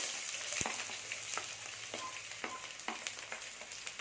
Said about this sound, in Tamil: இது எல்லாமே போட்டு தாளிச்சிடலாம் ரெண்டு பெரிய வெங்காயம் பொடியாக கட் பண்ணி வச்சுருக்கேன் இதை சேர்த்துடலாம்